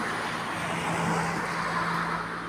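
A car passes outside as a steady, fairly loud roadway rumble lasting a couple of seconds, with no talking over it.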